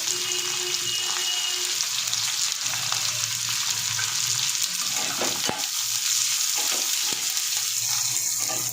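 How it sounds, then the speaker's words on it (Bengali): Loud, continuous sizzling of chopped onions frying in a hot pan, with occasional scraping and stirring sounds. "এবার এর মধ্যে কুচি করে রাখা পেঁয়াজগুলো দিয়ে দেবো।"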